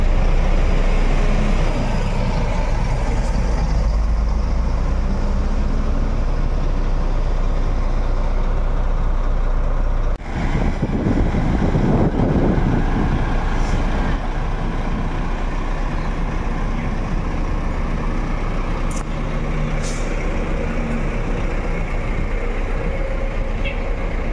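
An Al Hijrah Volvo B11R coach idles before departure with a steady loud engine drone throughout, a brief hiss like an air brake release midway, and faint voices in the background.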